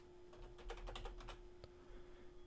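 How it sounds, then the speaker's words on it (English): Quiet, close keystrokes on a computer keyboard come in a quick burst of about eight taps followed by a single later tap, over a steady low hum with no talking. "I'll just start typing Roboto in the search here."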